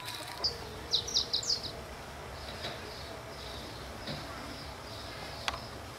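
A woodpecker calls from a concrete pole, a quick burst of several sharp, high chirping notes at a moderate distance, followed by quieter outdoor ambience and a faint knock.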